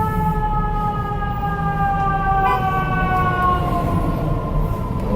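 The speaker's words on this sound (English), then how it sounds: "there's always some sirens or something" A wailing emergency siren sweeps steadily up and down, loud and continuous, over a low rumble of New York City traffic.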